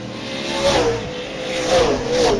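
Outlaw super late model race cars roar around the track at Springport Motor Speedway, engines rising and falling in pitch as they pass nose to tail, loud and steady.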